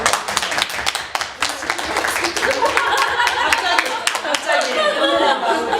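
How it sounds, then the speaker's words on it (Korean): A small audience claps in a loose, uneven patter of hand claps mixed with light laughter and chuckling. Voices carry on over and after the clapping. "박수 한번 칠까요?"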